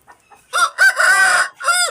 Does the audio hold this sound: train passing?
no